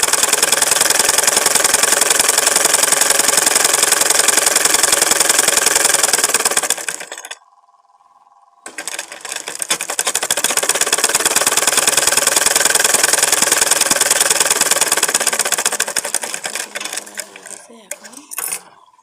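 Domestic sewing machine stitching a narrow edge along a blouse sleeve opening, a steady loud mechanical whir that runs alone, stops briefly, then resumes before fading at the end.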